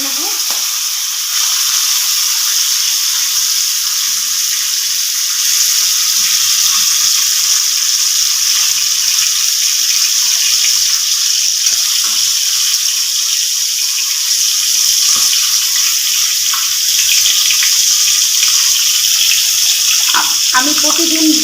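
Pieces of rohu fish frying in hot oil, a loud, dense, continuous sizzling hiss held steady from start to finish, close up with faint kitchen handling underneath.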